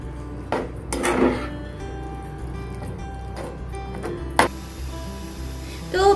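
Maggi noodles cook in a pan with white sauce, with a few scattered clinks and scrapes of a utensil against the pan over a low background hum.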